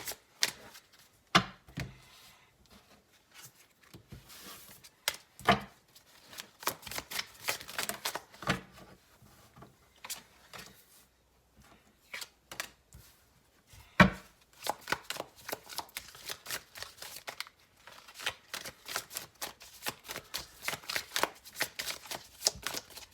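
Tarot cards being shuffled by hand, with quick papery riffles and soft taps in irregular bursts, close and fairly quiet, with brief pauses between the bursts.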